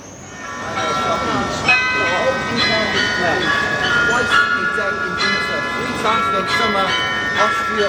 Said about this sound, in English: 43 bells ringing out of Europe's 5th largest carillon.